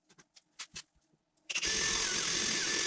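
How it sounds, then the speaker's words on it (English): Quiet clicks and taps give way to a loud, steady power drill whir as it bores a hole into a car's SRT rear spoiler for rivets to attach a wicker bill. "drill these two, then I'll aug them out with the bigger"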